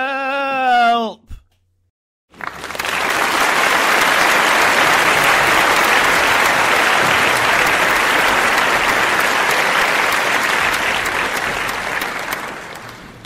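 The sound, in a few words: audience applause after a story reading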